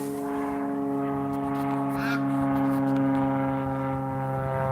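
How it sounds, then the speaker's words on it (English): An airplane flying over a backyard chicken yard gives a steady, droning engine hum with strong low tones that swells slightly toward the middle and holds throughout, fairly loud and continuous. "airplane flying over. You can hear it for sure."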